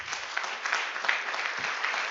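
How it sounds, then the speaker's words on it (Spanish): Congregation applause during a Spanish-language church sermon, a steady, dense wash of many hands clapping at moderate distance, filling the whole moment without talk. "Denle un aplauso a Jesucristo."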